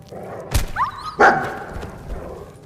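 A dog gives two sharp, close barks about half a second apart, the second louder and drawn out into a short whine-like tail, over faint background noise.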